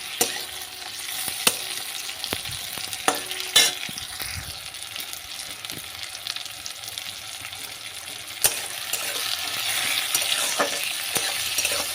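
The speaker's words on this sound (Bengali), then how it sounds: "টমেটোটা ভাজতে ভাজতে নরম হয়ে যাবে" A large tomato frying in a pan with spices and salt for a light Bengali curry, steady close sizzling with occasional clinks and stirring scrapes throughout.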